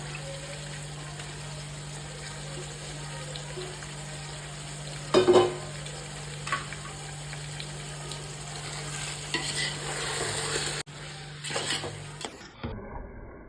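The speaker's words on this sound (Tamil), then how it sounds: "தக்காளியில் நல்லா வதங்கினப்புறம் சிக்கன் நம்ம ஊற வச்சு வச்சுருந்த சிக்கனை மிக்ஸ் பண்ணுறேன்." Marinated chicken stirred into tomatoes frying in a pan for homemade chicken biryani, a steady close sizzle broken by a few sharp scraping stirs around the middle and near the end before it cuts off.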